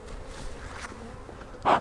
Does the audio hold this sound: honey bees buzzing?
yes